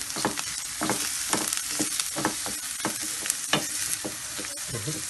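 Onion and chives fry in a pan with a steady close sizzle, broken by repeated scraping stirs of a utensil against the pan, and nobody speaks.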